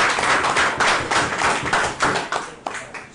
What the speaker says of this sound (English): Give Samson a round of applause.